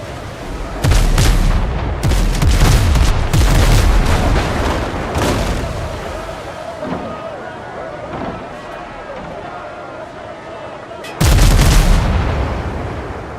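Ship cannons firing in a pirate naval battle game, with loud booming volleys packed together near the start, a dense rumbling barrage continuing, then a fresh heavy burst near the end, while players talk over it.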